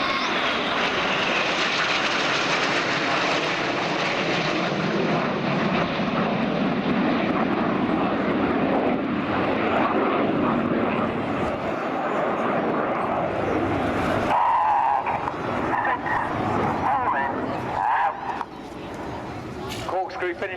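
RAF Red Arrows jet aircraft in a flying display at Air Waves Portrush 2016, a loud, broad roar that holds steady and then fades, with a commentator talking over it.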